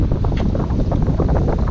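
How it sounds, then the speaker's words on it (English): Strong wind buffets the microphone outdoors while fishing, a loud, steady low roar with gusty fluctuations and no pause, no voices over it. "it's so crappily windy"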